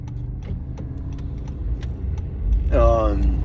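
Cars passing on a road: steady low engine rumble with a louder vehicle sweeping close by near the end, and a voice talking over it.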